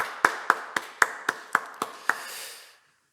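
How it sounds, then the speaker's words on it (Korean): A church congregation at an Easter Sunday service claps in praise: about eight sharp, evenly spaced claps ring out, then fade into a brief room tail and silence. "부활하신 주님께 영광과 감사와 찬양의 박수 올려드리겠습니다."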